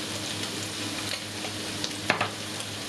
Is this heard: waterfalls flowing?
no